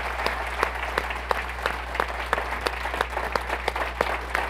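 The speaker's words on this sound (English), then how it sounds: "can we give a round of applause to Phil?" An audience at a Chicago leadership fireside chat applauds, dense clapping filling the room at moderate distance with a constant low hum beneath it.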